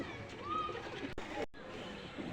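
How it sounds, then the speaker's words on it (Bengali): Ferozpuri pigeon cooing close by in a loft, a soft drawn-out call over steady background noise with a brief dropout near the middle. "মাশাল্লাহ একটা ফিরোজপুরি কবুতর"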